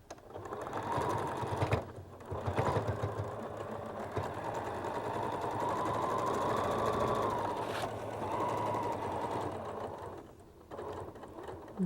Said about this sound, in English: So let's start right at the edge and sew, and we should have a perfect point in the center of our star.